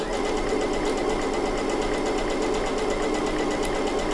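A Bernette B79 sewing machine runs steadily on a triple stitch, sewing three passes of thread per stitch. Its close, loud, even mechanical whir continues alone without a break.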